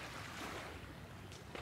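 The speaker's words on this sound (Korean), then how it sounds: "와, 바다 소리." A soft, continuous rush of sea waves at Jebudo Island, South Korea, fairly distant and quiet, with no voices.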